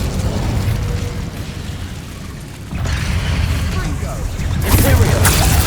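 Incendio fire spell blasting in Hogwarts Legacy, loud roaring fiery bursts that swell in waves with rumbling impacts and a sharp flare toward the end, a voice speaking underneath.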